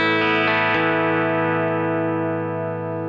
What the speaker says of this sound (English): so the first pedal is the compressor, which sounds like this.